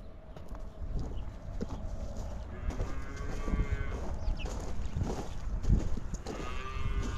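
Breeding-age heifers in a barn pen moo repeatedly at varying distances, with shuffling hooves and animal movement beneath the calls.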